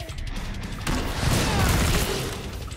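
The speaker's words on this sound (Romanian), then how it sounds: "explozia nucleară, ia uitați cât de mare e ciuperca" A nuclear blast in the zombie shooter Killing Floor 2 swells into a heavy, rolling boom with crackling debris, rising from a quieter start to a loud sustained roar over a couple of seconds.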